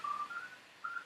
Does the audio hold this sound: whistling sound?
yes